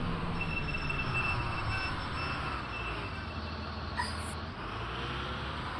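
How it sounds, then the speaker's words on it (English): Brakes on a Mercedes bus squeal with thin, sustained high-pitched tones over the low rumble of the moving vehicle, fairly close, with a brief sharper squeak near the end. "Those are 29's brakes."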